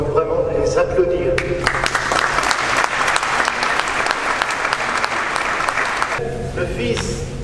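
Congregation applauding the firefighters at a Sainte Barbe service in Firminy, sustained dense clapping from a large crowd in a reverberant church, loud and steady from start to finish, with a brief tonal sound under the opening seconds.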